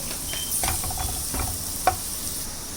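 Spatula stirring aloo tikki stuffing with amchur powder in a pan: scraping strokes with a soft sizzle under them, a few distinct scrapes and a sharper tap near the end, close and moderately loud.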